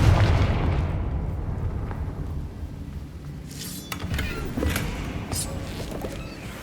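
A blasting-curse explosion in Hogwarts Legacy, a deep rumbling boom that fades out slowly, with faint crackles and small thuds after it.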